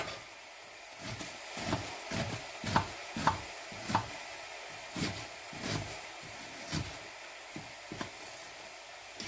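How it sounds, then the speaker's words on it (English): An onion is chopped with a small knife on a board, a string of quiet, irregular knocks close by against faint background hum. "I like to use a small knife for chopping"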